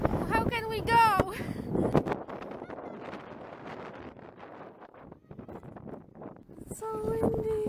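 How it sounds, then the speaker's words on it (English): Gusty wind rumbles against the microphone on the Rideau Canal Skateway on a windy day, a continuous low roar rising and falling as voices speak at the start and end. "So windy."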